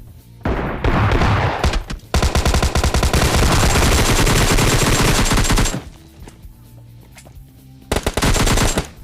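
Loud bursts of rapid gunfire from a PUBG Lite match, sustained volleys broken by short pauses, with a final burst near the end; no talk over it.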